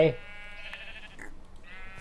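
Sheep in Minecraft 1.11.2 bleat while being sheared, a few short, clear game bleats in quick succession over a faint background.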